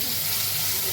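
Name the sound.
sizzling tempering of cloves, garlic and coriander in hot oil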